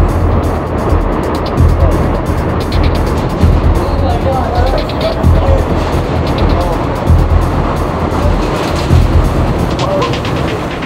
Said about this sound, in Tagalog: biglang may marinig kaming isang ugong ng paparating na sasakyan